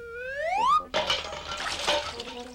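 A cartoon rabbit splashes out of a watering can full of water: a rising whistle-like slide cuts off into a burst of sloshing, splashing water that trails away, with no talking.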